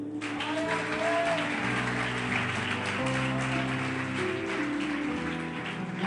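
A church congregation applauds the Lord, a dense, sustained wash of clapping like heavy rain that holds evenly for several seconds, with faint sung or spoken tones beneath.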